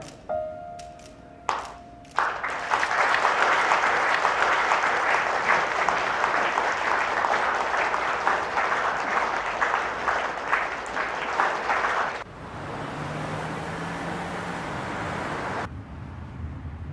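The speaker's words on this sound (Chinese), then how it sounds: "让我们用最热烈的掌声" Enthusiastic audience clapping at an award ceremony for an honorary citizen title, a dense sustained burst lasting about ten seconds before cutting off, preceded by a few sharp taps.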